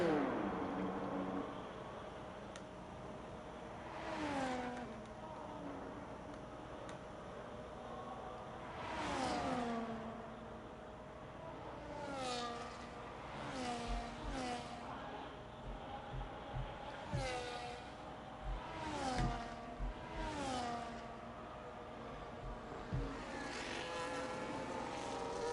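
Racing cars on a push lap in a sim racing game at Australia, engines whining up and down as cars pass and shift, several fly-bys swelling and fading over a steady background hum.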